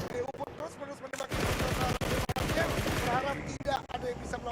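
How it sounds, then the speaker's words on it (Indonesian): Rapid bursts of automatic gunfire in a PUBG Mobile esports match, sharp repeated shots crackling in several volleys with brief gaps, loud and close amid busy game noise. "DU pun terus-menerus menembak"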